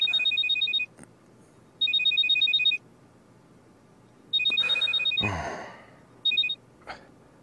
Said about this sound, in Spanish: Ya, responde al teléfono.